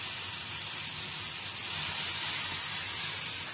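Spice masala for stuffed karela sizzles steadily in hot oil over a high gas flame, a continuous close hiss with no talk.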